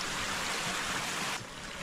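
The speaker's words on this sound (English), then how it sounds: "It's filling up with hot water pretty quick." Hot spring water pours into a hole in the ground, a steady close trickling rush that runs continuously and drops a little in level near the end.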